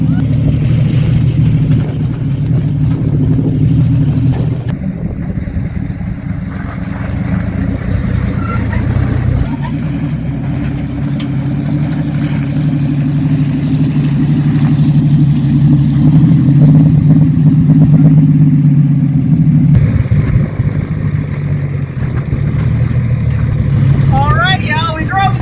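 A 1956 Ford F100 truck engine rumbles steadily while driving, a low, continuous drone with shifting tone throughout, and voices talk over it.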